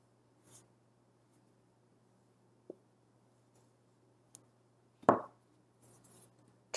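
Marker or chalk strokes on a classroom board during a phonics lesson, a few sparse scratches and taps with one louder stroke, over a low steady hum in a quiet room.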